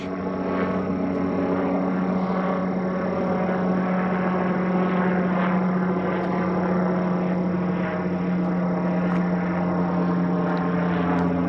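A police helicopter's steady rotor drone holds loud and constant throughout, with a deep throbbing hum and no voices.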